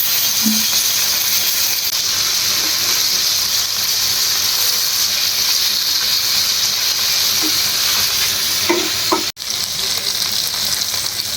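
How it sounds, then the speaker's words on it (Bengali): Rohu fish pieces fry lightly in oil in a pan, producing a loud, continuous close-up sizzle with scattered small pops and a brief dip near the end. "তরকারির জন্য হালকা করে ভেজে নেব"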